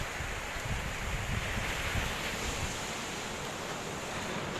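Sea waves breaking on Oarai beach in Japan at sunrise, a continuous loud roar of surf mixed with wind buffeting the microphone.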